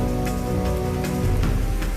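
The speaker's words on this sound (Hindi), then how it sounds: "भारी बारिश और तेज हवा से वडोदरा शहर में त्राहिमाम मच गया।" Heavy monsoon rain with strong wind lashes down in Vadodara, Gujarat, a dense, loud, steady roar of rainfall with low rumbling underneath.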